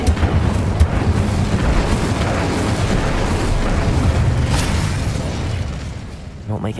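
Booming fire-spell blasts in Hogwarts Legacy, loud rumbling bursts layered over continuous battle noise, with a sharper crackling hit partway through.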